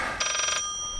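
A telephone rings in the horror video game Layers of Fear, one short trilled electronic bell burst over a low sustained tone and quiet ambience.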